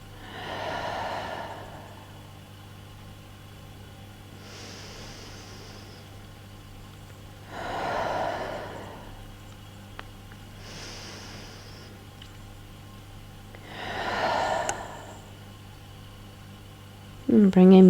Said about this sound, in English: And take 3 more rounds of breath here.